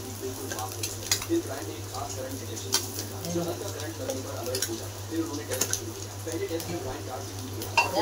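Onion, garlic, biryani masala, red chili powder and turmeric sauté in a pan for egg biryani, with steady low sizzling and intermittent scraping stirs, close by, while someone talks over it.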